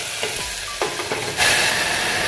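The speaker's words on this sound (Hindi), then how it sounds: "फिर इसमें मैं अब डाल रही हूँ ये टमाटर।" Chopped tomatoes tipped into a pan of ginger, garlic and chili frying in oil, with steady loud sizzling that swells as they hit the hot oil and a few stirring scrapes.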